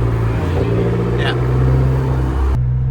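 An Abarth car's engine drones steadily and close in second gear during a rolling drag race, a constant hum that stops abruptly near the end.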